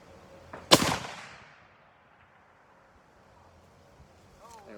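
A single sharp gunshot cracks loud and close near the start, its echo fading over the next second into quiet outdoor wind noise.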